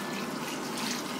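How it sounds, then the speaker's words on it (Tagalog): A glass of water poured into a cooking pot for sour tamarind chicken soup, a short, dense, steady splash close by with no voices. "Lagyan niya ng isang basong tubig."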